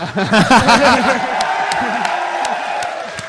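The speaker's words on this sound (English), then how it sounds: "The crowd are waving at Kynan and cheering" A crowd at a live event cheering and whooping, a dense swell of voices that starts loud and gradually eases, with a few claps.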